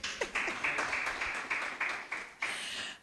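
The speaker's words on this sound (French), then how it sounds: "On applaudit pour lui." An audience at an awards ceremony claps in an irregular burst, with sharp individual hand claps standing out over a steadier patter of applause, fairly faint and without speech.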